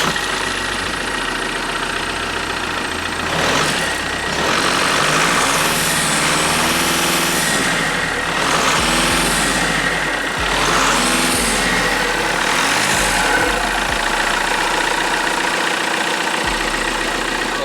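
A Volkswagen Scirocco engine with an upgraded intake idles nearby, a loud, steady low rumble with several swelling revs and whooshes of drawn-in air, no talking.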